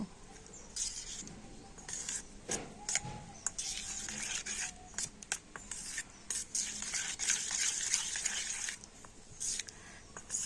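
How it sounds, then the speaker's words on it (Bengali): Semolina being stirred into milk in a bowl, with close, quiet scraping and light tapping of a spoon in a busy, uneven rhythm that continues throughout. "আর এবারে আমি দুধের সাথে সুজিটা একটু ভালো করে মিশিয়ে নেব।"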